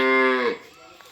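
A single loud cow moo, close and tonal, ending abruptly after half a second and leaving quiet background.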